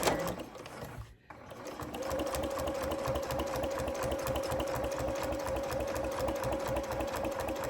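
A sewing machine runs steadily at close range, stitching binding onto a quilt block design board, its rapid rhythmic whir continuing after a brief pause near the start.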